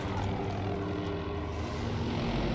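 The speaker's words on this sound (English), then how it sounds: "helicopter" A helicopter sweeps past in Battlefield 2042, its loud engine and rotor drone filling the whole stretch as a dense, continuous roar, with brief low thumps underneath.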